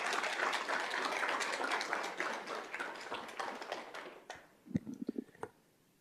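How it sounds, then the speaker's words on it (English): An audience applauds a student at a school district governing board meeting, with dense sustained clapping that thins out into a few scattered last claps. "if we can give him a big round of applause"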